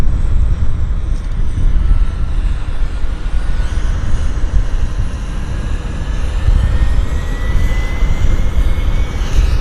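Air North airliner starting its engines at Vancouver Airport, a loud, steady roar and rumble heard from a distance outdoors, with a faint tone slowly rising beneath it.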